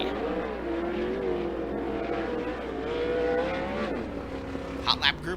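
A 410 sprint car runs hot laps on a dirt oval, its engine droning steadily at a distance with rising and falling pitch as it circles, while an announcer talks over it.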